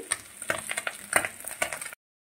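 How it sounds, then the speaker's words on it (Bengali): Fish fries in a pan with a light crackling sizzle broken by a series of quick clinks and scrapes from stirring, heard up close and without talk, then cutting off abruptly. "তো মাছটা তুলে নিয়ে আগে, ভাজা মাছটা ভাজছি।"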